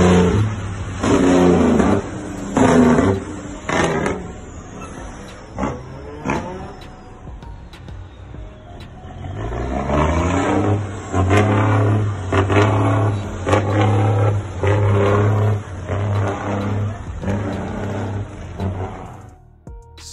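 Cummins ISX engine of a truck in American Truck Simulator, revving in two long bursts of rising, pulsing engine roar separated by a brief lull, loud and close with no talk.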